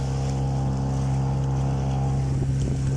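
A boat motor fitted with a homemade propeller drones steadily at close range with a strong, constant hum and some wind buffeting, no pauses throughout.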